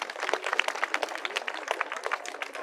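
An audience at an outdoor commemorative ceremony in the Saint-Sauvant forest applauding after a song, crowded, fairly even clapping that carries on without a break.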